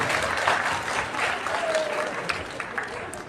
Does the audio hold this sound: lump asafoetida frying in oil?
no